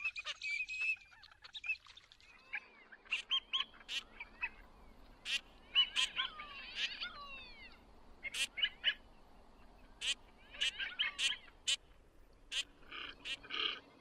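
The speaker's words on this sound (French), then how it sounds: "Les colverts, robustes et familiers, prompts à s'envoler au moindre frémissement de l'air." Mallards and Eurasian teal on a calm river, with a series of distant quacks and short calls scattered over faint background water and ambience.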